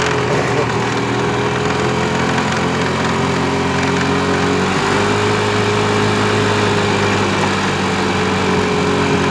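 A golf cart's engine runs continuously while driving at a cabin, a loud, steady buzzing motor drone with a slight pitch shift midway and no talk.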